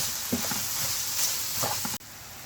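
Sautéed vegetables seasoned with black pepper, chili flakes, red pepper powder, thyme and salt sizzle steadily in a pan for a creamy chicken dish, with soft scraping stirs breaking through the hiss.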